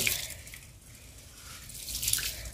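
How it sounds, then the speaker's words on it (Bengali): Rice mixed with dal being washed in water, soft splashing and trickling that swells at the start and end with a quieter stretch between, no talking. "তো চালটা আগে ভালোভাবে ধুয়ে নেব, যেহেতু এর মধ্যে ডাল দেওয়া আছে"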